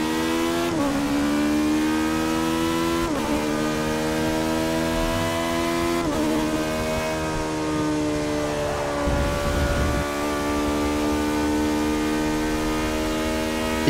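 A car engine held at full throttle in Forza Motorsport 6 wails loud and steady, with its pitch climbing and dropping briefly at each gearshift roughly every three seconds, and no voice over it.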